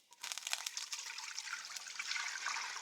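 Stock pours into a pot for goetta, making a close, steady splashing gush for nearly three seconds.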